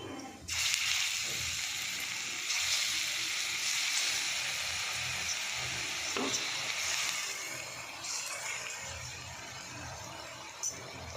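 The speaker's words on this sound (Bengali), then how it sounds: "এবার আমি এই ডালের বড়াগুলো ভেজে নেব।" Lentil fritters (dal bora) fry in hot oil in a wok, giving a steady, fairly quiet sizzle throughout with occasional faint stirring knocks.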